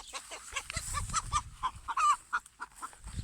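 Village chickens cluck in short, uneven bursts close by, a few quick sharp calls rising and falling after an eagle attack, with no voices.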